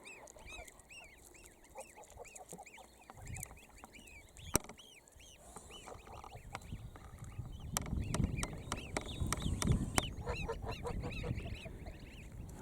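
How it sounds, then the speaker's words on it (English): Young goslings give a chorus of repeated high, thin peeping calls, fairly faint and close, with soft rustling and outdoor background noise building midway. "Little goslings there."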